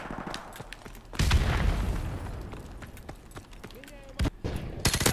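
Sharp bursts of gunfire and a heavy blast from a frag grenade in Call of Duty: Modern Warfare Remastered, loud and close. Excited talk runs between and over the hits.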